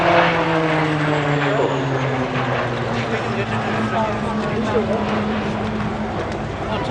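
A display aircraft at the Duxford air show sweeps past in a low pass at about 100 feet and 250 knots, its engine drone loud and continuous with a shifting pitch.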